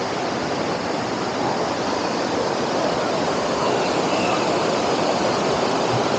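Heavy water pouring down with force from Sithathipuram dam, a constant loud roar of churning, rushing water that never lets up.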